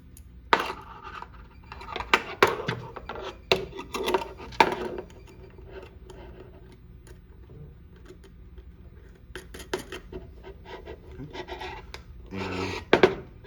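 Short metallic scrapes and clicks come in scattered bursts as a nut is threaded onto the bolt of an external fixator half ring, close and fairly loud, with quieter pauses between.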